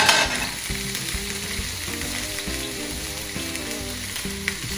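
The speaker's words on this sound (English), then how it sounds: "I'm just going to cook this in a couple of simple small batches" Beef chunks for rendang sizzling steadily in a hot pan, cooked in a small batch, with a continuous dense fry and occasional faint stirring scrapes, no voices.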